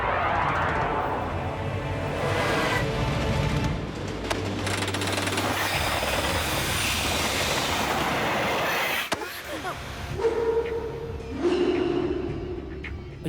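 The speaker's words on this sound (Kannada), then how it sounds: "ಈ ಟ್ರೈನ್ ಕಂಟ್ರೋಲ್ಗೆ ಸಿಗ್ತಾ ಇಲ್ಲ, ಮತ್ತೆ ಟ್ರ್ಯಾಕ್ ಕೂಡ ಚೇಂಜ್ ಆಗ್ತಾ ಇಲ್ಲ" A train runs through a tunnel inside a cave with a loud, continuous rumbling clatter and rapid pounding beats. The noise dips briefly and then returns with a few squealing tones near the end.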